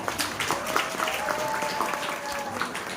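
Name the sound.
applause at Amway event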